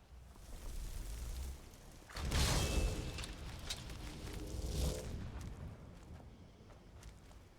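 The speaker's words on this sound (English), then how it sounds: "That was an explosion." A distant explosion booms out in the fantasy world of Skyrim, followed by a second muffled blast, both rising out of a steady rumbling background with no talking.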